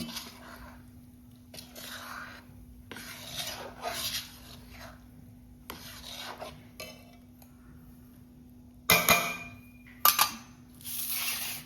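Spice mixture for gond laddu being stirred in a pan, with intermittent soft scraping and rustling bursts of varying strength, a couple of sharper clinks near the end, over a steady low hum.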